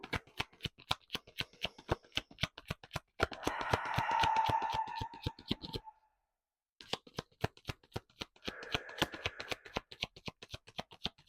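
Tarot cards shuffled and pulled for a reading, sharp rapid riffling clicks in quick bursts with two longer whirring riffles and a short pause, close and alone.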